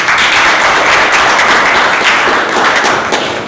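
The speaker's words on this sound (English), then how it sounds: "I think they deserve a great round of applause." Dense, steady applause from a meeting audience fills the room for a round of clapping honoring two veteran Toastmasters, loud and continuous throughout with no pause.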